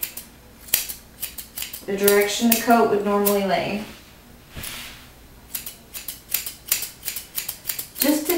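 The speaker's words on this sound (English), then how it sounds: "I am using curved shears because I'm giving him a rounded look to his groom." Curved grooming shears trim a Cocker Spaniel's coat up close, giving a run of quick, crisp snips, some in steady bursts, with a person talking over parts of it.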